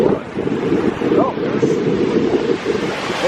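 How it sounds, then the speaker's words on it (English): Water of the Yellowstone River falls pours into the pool below in a steady, broad roar, buffeted by wind noise, with no clear talk. "See the water gushing into the pool below."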